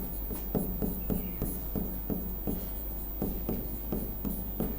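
A teacher writes a Hindi word, likely chalk on a board, making a steady run of short, rhythmic scratching strokes, close and clear, with no talking.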